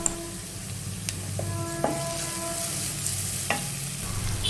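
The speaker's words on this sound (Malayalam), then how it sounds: "ഇതിനെ ഒന്ന് നമുക്ക് വഴറ്റിയെടുക്കാം." Ridge gourd curry being sautéed in a pan, a steady close sizzle with scraping stir strokes and a few sharp clinks of a spoon against the pan, no talking.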